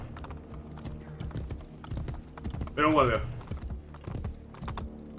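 Horse hooves clip-clop on a street in Assassin's Creed Brotherhood, a steady rhythmic trot running under a man's speech throughout, with a brief louder whinny-like burst in the middle.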